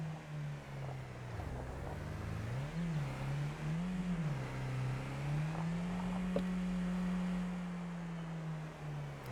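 A car engine in Farming Simulator 25 on the Kinlaig Highlands map drones steadily, its pitch rising and falling as the vehicle drives and changes speed, alone and without talk.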